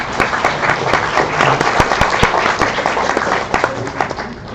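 Participants and audience applauding at the close of a youth pitch competition final, a loud, full burst of clapping with some sharper nearby claps standing out, sustained throughout without speech.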